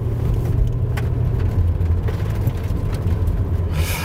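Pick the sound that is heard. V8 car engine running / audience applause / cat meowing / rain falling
V8 car engine running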